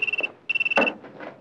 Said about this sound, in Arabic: بعد اذنك رد على التليفون.